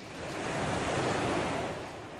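Ocean waves breaking in the surf zone of a beach where rip currents form, a steady, loud wash of surf that swells and fades over a couple of seconds with no voices.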